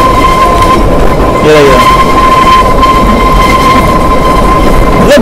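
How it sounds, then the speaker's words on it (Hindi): Shimla toy train on the Himalayan mountain railway rolling with a steady rumble while a thin, high metallic wheel squeal rings continuously through a curve, joined by a brief rising squeal and a short spoken phrase. "ये ट्रेन मुड़ती है ज़्यादा तो एक चू चू की आवाज़ बहुत ज़्यादा आती है"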